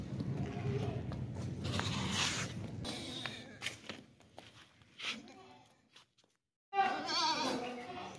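Goat sounds at a livestock market where sacrificial goats are sold for the 2024 Qurbani, with bleats mixed into busy crowd noise and continuous talk, a brief near-silence, then more bleating and voices.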